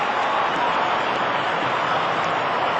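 Cricket crowd applauding a great shot, a dense steady roar of clapping and cheering that holds loud and unbroken throughout.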